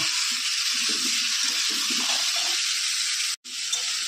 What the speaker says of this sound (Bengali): তাই একটু তেল দিয়ে হালকা নেড়ে চেড়ে হালকাভাবে একটু ভেজে নেব